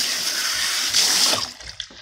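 Water from a tap-fed softener system rushes steadily as it soaks down hair at a salon, a loud close hiss that tapers off toward the end.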